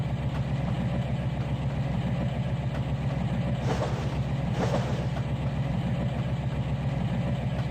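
Train engine running steadily in Trainz 2019 as it rolls over track switches, a continuous low rumble with a couple of brief louder bangs from the switches midway.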